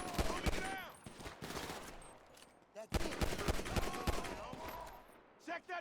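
Repeated gunfire bursts from Grand Theft Auto V Enhanced, rapid volleys like a fusillade or machine gun, loud and close, with a short pause in the middle, and game voices speaking over the shooting.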